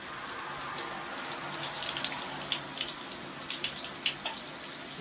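Water runs steadily from a tap for a pet bird named Keno's shower, a continuous close hiss and splash with small drips and splatters breaking through, and no talking.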